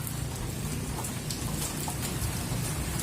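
Steady rain falling outdoors at a pigeon racing derby in Candelaria, Quezon, a drizzle growing heavier into a dense, continuous hiss of drops with no voices.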